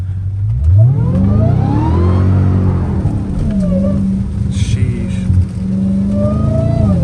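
A Dodge Hellcat Redeye's engine rises and falls in loud revs while driving through a hurricane, with a constant rumble and road and rain noise.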